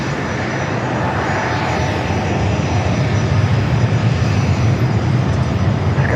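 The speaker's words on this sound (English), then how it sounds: "737-800 coming up from Austin, Texas." A Boeing 737-800 in old livery arrives at San Diego airport, its engines giving a loud, steady roar that builds slightly toward the end, close by and unbroken.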